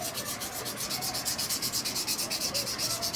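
Edge of a handmade resin lure head being sanded smooth for a skirted tuna lure: fast, steady rhythmic rasping strokes, close and fairly loud, with no voices.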